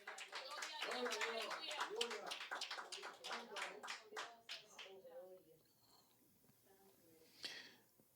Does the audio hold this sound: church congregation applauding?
yes